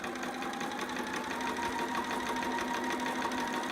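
A sewing machine runs a straight stitch along a skinny strip of fabric for a romper, a steady close mechanical whir with a fast even needle rhythm and no talk.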